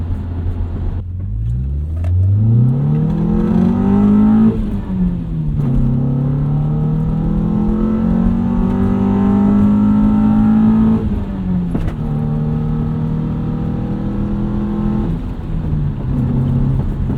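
A 2001 Honda CR-V with a manual gearbox and front-biased all-wheel drive accelerates hard in first gear, its loud engine note climbing steadily in pitch, briefly dipping, then rising again close to the microphone.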